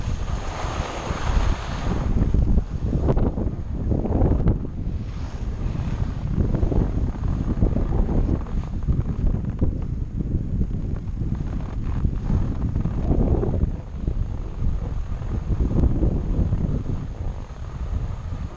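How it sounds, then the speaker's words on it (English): Strong wind roars across a Vail, Colorado mountaintop above the clouds, buffeting the microphone in a loud, steady rush with gusty swells, where a sign is blowing hard; no voices. "Look at how much the sign's blowing."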